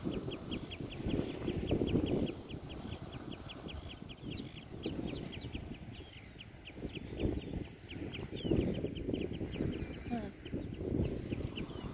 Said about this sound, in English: Birds are very noisy.